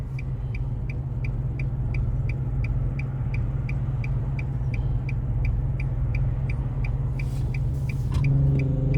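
Steady car engine hum while driving on a busy Brooklyn avenue in heavy traffic, with a regular ticking indicator clicking across the whole stretch and a brief brake hiss near the end.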